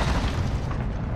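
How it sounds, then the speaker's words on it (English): A stun grenade detonates in Call of Duty: Black Ops Cold War, a loud, dense low boom with sustained rumbling that fills the whole moment, with no voices over it. "Stun grenade out."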